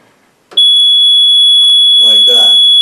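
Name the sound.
water leak sensor alarm sounding off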